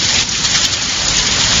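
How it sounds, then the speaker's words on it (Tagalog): Steady heavy rain pours down during hot sunshine, a dense, even hiss of drops close by with no voices. "Ay, umulan."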